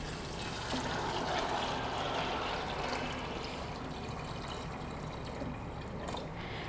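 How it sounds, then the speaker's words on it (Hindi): Water pours steadily into a metal pressure cooker holding white beans, a continuous splashing rush with no talking, holding fairly even for several seconds. "लोबिया को कुकर में डालने के बाद अब मैं इसमें पानी शामिल करूँगी"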